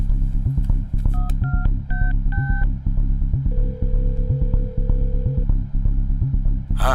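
A rapid series of electronic dialing beeps, several short tones followed by one long steady tone, over a constant low rumble.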